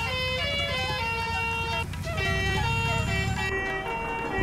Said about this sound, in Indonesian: ada banyak macam suara telolet basuri untuk truk ini guys